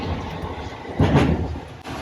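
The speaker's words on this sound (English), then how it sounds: "The air train to JFK." The rubber-wheeled AirTrain to JFK rolls along with a low, steady rumble heard from inside the car, swelling briefly into a louder rush partway through.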